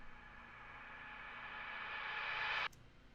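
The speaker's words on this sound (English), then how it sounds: "So this riser has a lot of like low end and it's very airy." An airy riser effect with plenty of low end, built for a hip-hop style beat, swells steadily in a breathy whoosh over about two and a half seconds, then cuts off abruptly.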